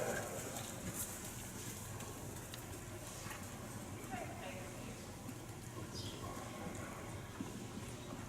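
Horse hooves clip-clop faintly at an outdoor riding clinic as a horse works laps around the arena, with birds cooing in the background and people talking at times.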